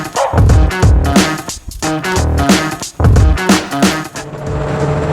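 A 1972 Chevrolet Suburban with a turbocharged LS engine drives, its engine revving loudly up and down in repeated surges with gear-change pauses, close and dominant.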